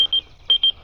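A phone rings with an incoming call: two pairs of quick, bright electronic beeps, clear and close against a quiet background.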